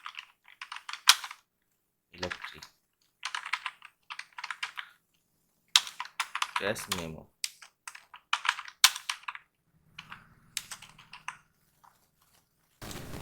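Text being typed on a computer keyboard into a Photoshop 7.0 cash memo design, heard as short bursts of close keystrokes with pauses between them, and someone speaking briefly between bursts.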